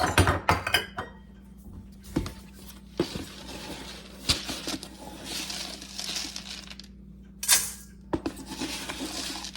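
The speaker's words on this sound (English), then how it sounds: "into my big bowl, I'm going to put 3 cups of Old Fashioned oats, the regular Old Fashioned rolled oats, not the quick oats." Old-fashioned rolled oats being scooped and poured into a big bowl, a series of irregular close clinks, rattles and dry rustling bursts with quiet gaps and no talk.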